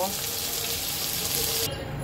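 Lightly fried eggplant sizzles in hot oil in a pan, a steady broadband hiss that holds loud and even throughout, with no voices.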